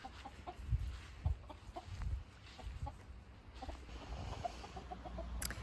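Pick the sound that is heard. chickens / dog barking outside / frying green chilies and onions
chickens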